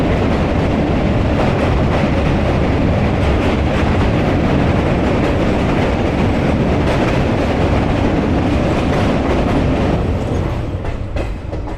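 Ballia Sealdah Express running on the rails near a two-floor railway station, a loud continuous rumble with rhythmic clickety-clack of wheels over track joints, close and steady throughout without talk.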